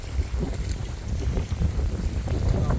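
Wind gusts over a lake in the Allegheny National Forest on a rainy day, a loud, rumbling roar buffeting the microphone with no talking.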